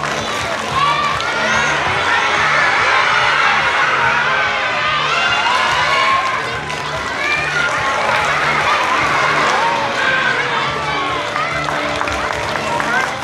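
Kindergarten and elementary schoolchildren in Takamatsu watching a street performance cheer, shout and clap in a loud, continuous crowd roar, with excited voices rising and falling close by.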